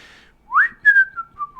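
Lucky Luke whistles a short tune: a few clear, sliding notes, first rising and then gently falling, heard alone and close, with brief gaps between the phrases.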